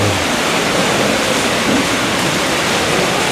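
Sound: rain falling

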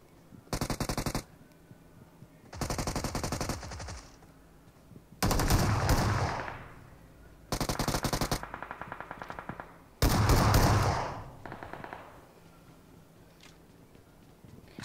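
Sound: gunfire in BGMI (PUBG) video game

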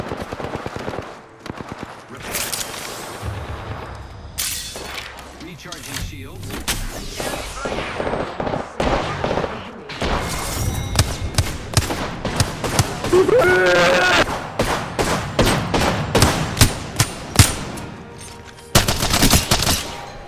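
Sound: gunfire in the video game Apex Legends

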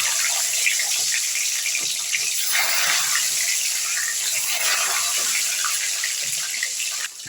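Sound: eggs frying in hot oil

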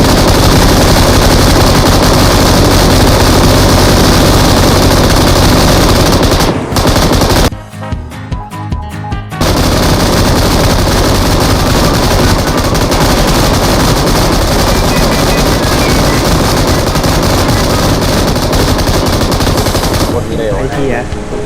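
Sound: M249 machine gun firing in video game PUBG Mobile

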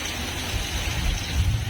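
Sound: heavy rain falling

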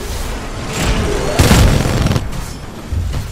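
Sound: gunfire in video game Titanfall 2

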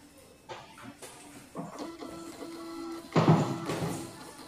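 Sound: Hoin printer printing over Wi-Fi

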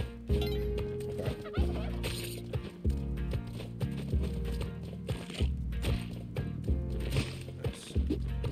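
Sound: turkeys gobbling in the video game Spelunky

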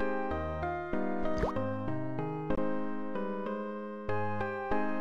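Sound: dripping water in Simon the Sorcerer 2 video game

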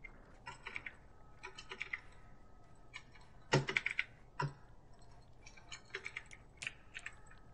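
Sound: computer keyboard and mouse being used while gaming

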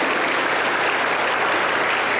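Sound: congregation applause

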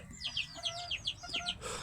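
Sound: free-range chickens clucking

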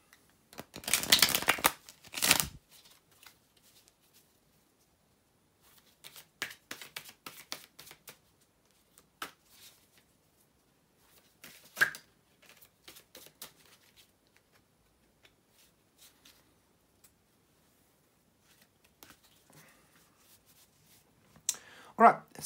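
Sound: shuffling a deck of tarot cards

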